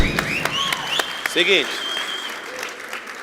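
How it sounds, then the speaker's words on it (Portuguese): Audience applause at a Portuguese-language talk show interview, a steady wash of clapping running through the clip while a voice speaks briefly and a tonal sound rises over it. "Uma salva de palmas para ele."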